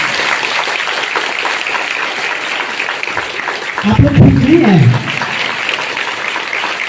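An audience applauds during a welcome ceremony, a continuous wash of clapping throughout with a voice speaking briefly over it near the middle.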